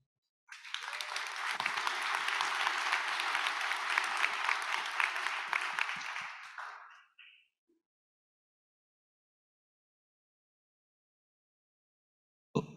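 A conference audience applauds a youth panel, a dense burst of clapping lasting about six seconds before fading into silence, moderately loud with no voices over it.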